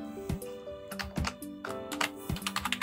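Quick bursts of keyboard typing with clustered key clicks and short pauses between runs, fairly close, with a low soft thump at the start of each burst.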